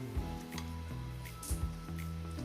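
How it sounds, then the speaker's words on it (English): Corn being stirred into a pasta salad with a spoon, giving soft wet squishing and clicking scrapes that repeat at an uneven rhythm over a steady low background hum, close and moderately loud, with no talking. "I'm just going to give this a nice little mix first"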